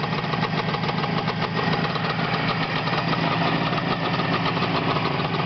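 A rebuilt engine with electronic ignition runs at a steady idle, close and continuous, with an even, slightly knocking mechanical rumble and no talking.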